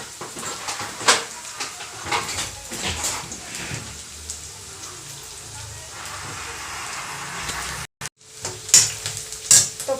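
Garlic and onion fry with burnt cumin in a pan, giving a steady sizzle with scattered stirring clicks and a brief break near the end.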